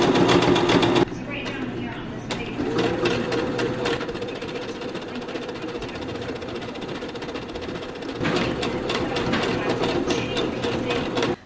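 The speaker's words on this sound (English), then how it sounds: "here is the first thing that I'm going to sew" A sewing machine stitches fabric in steady rapid bursts, close and fairly loud, pausing briefly before running again.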